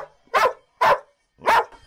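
A dog gives three evenly spaced barks, close and clear against silence, each short and sharp.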